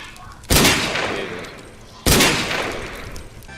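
Two loud, close blasts of gunfire from a story mode video game, each a sharp burst that trails off into a long noisy decay, about one and a half seconds apart.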